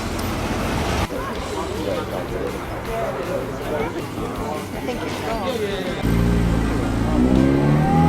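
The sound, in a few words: small Japanese K car driving past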